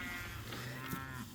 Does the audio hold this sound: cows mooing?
yes